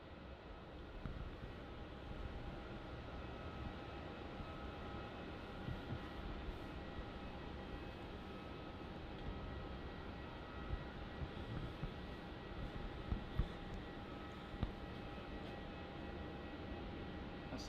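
An airliner on final approach to Melbourne Airport runway 34 gives a faint, steady distant jet drone that hangs evenly in the background with a few small knocks near the end.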